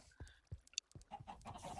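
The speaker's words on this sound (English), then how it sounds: "I got like a billion chickens been breeding up there" Chickens in Minecraft (Enigmatica 4 modpack) cluck in a crowded breeding pen, with several short, quiet, overlapping clucks in quick succession.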